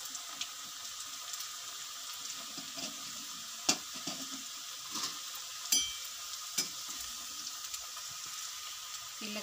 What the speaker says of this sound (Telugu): ఆయిల్ వేడైంది ఎలా వేయాలో చూడండి। ఇలా ఇలా వేయాలి కొంచెం పైన నుంచి వేయాలి